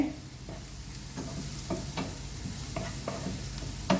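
Spice powders, pepper and chilli, being stirred into a palak paneer stuffing in a hot pan, making a steady soft sizzle with repeated scraping strokes of the spoon close by.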